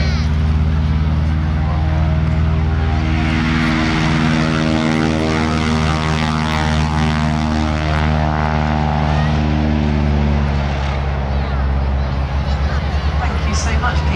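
A wing walking display aircraft at an air festival takes off, its loud propeller engine droning steadily up close and holding a strong even tone throughout.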